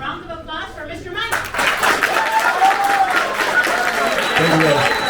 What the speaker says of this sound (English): a round of applause for Mr. Mike